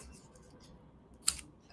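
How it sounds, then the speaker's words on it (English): Scissors slice a strip of dimension foam tape during card crafting: a single crisp, close snip in an otherwise quiet room. "the scissors, cut a strip"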